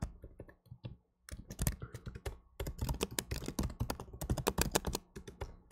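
Fast typing on a computer keyboard while writing code, a close burst of clattering keystrokes after a few isolated taps and a brief pause.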